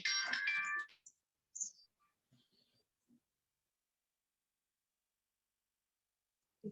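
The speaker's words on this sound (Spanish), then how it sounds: "Un celular." A mobile phone ringtone rings loudly in a quiet room for about a second, followed by a few faint knocks and rustles and then long silence.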